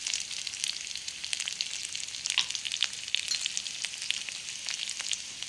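Onion, garlic, ginger and turmeric frying in a pan, a soft continuous sizzle with crackling pops and occasional light stirring, no talking.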